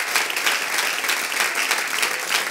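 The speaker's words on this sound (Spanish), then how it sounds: "Un aplauso al Señor" A church congregation claps steadily and loudly throughout, a dense continuous applause with no pauses.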